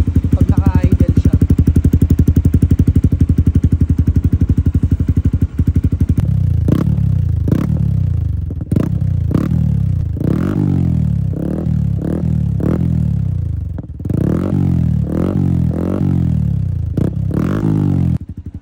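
Yamaha Sniper 155 motorcycle fitted with a TRC power pipe exhaust, first idling with a loud, steady, rapid pulsing burble, then blipped through a series of short revs that rise and fall repeatedly, close up.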